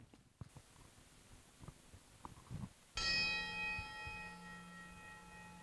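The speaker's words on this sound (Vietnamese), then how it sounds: "Thời giờ này con xin mời quý chú nghe một tiếng chuông" A large Buddhist temple bell at Hoằng Pháp Pagoda is struck once during an ordination ceremony, its deep, resonant tone ringing out long and slowly fading after quiet room ambience.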